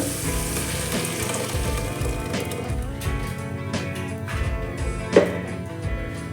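Masala for Mangalore-style fish curry sizzles and fries in a hot pan, making a steady close crackle with a few stirring clanks and one sharp knock near the end.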